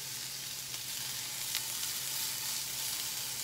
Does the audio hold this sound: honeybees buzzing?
no